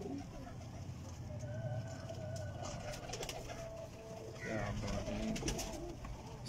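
Pigeons kept by a fancier coo repeatedly at close range over a constant background murmur, with faint voices in the mix.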